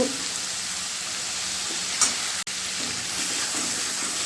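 Turmeric powder, salt and spices frying in a pan, a steady soft sizzle throughout with a brief stir clatter near the middle, close and alone with no talk.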